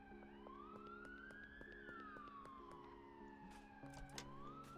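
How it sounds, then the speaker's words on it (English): An emergency vehicle siren in a video game scene, sweeping up and down in pitch with layered wailing tones, fairly faint and steady throughout, with scattered clicks and no talk. "It's alright, it's probably just an ambulance."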